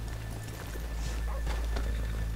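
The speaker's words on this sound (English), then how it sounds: "let's leave the horses here off the main drag." Horses walking in the video game Red Dead Redemption 2, soft hoof clops on a town street under a low steady hum, fairly quiet, no clear talk.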